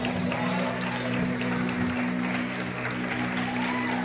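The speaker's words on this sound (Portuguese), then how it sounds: "Aplauda o Senhor mais forte" Church congregation applauding the Lord, a steady wash of many clapping hands over a low sustained hum, with voices mixed in.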